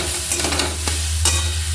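Grated coconut fries in white oil for a Bengali sweet filling, a close, loud sizzle under a steady low hum. A few sharp spatula scrapes and stirring clicks break through, and no voice is heard.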